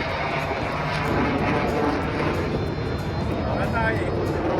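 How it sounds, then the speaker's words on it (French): Military jet aircraft roar overhead near a base, a loud, sustained engine rumble heard from a sailboat, with voices speaking underneath. "Comme la base militaire est très près, il y avait des avions de guerre. Donc, on a pu entendre à quel point ça fait du bruit."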